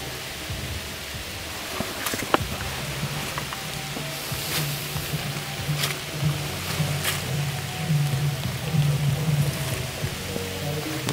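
Rain falls steadily in an abandoned cemetery, a continuous hiss with occasional sharper drops and taps, alone without voices.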